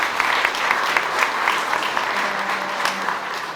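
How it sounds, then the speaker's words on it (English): Steady applause from a Le Wagon Brussels Demo Day audience honoring the staff, continuous dense clapping at moderate volume with faint crowd murmur underneath throughout. "I just wanted to give a big round of applause for the actual staff with whom this wouldn't be possible."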